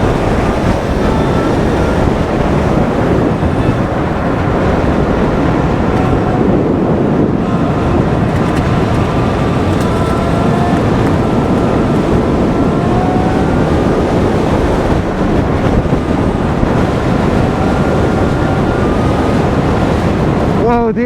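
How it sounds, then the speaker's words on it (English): Strong wind roars continuously into an outdoor microphone, a loud, steady buffeting rush with no break. "It is really windy, guys."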